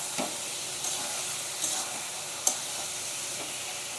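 Spiced drumstick curry (sajna chorchori) sautéing in a pan, a steady soft sizzle with a few light stirring scrapes and clicks scattered through, close and alone without speech.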